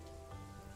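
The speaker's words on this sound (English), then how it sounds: "It's really cool with the rain, but the rain is stopping, isn't it?" Steady, soft patter of rain falling on surfaces in the video game Cat Zoo, a faint continuous wash with no voices.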